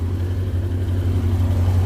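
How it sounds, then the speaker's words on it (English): A 1986 C4 Corvette with original pre-cats and knockoff Flowmaster mufflers idles, giving a steady, moderately loud low exhaust drone with a faint pulsing rumble and no voices. "Looks like maybe some cheap Flowmasters or something, some knockoff Flowmasters. It sounds alright, it's not obnoxious."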